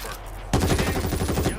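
Rapid gunfire erupts in the video game World War Z after half a second of quiet, a dense burst of automatic shots rattling close and loud for about a second.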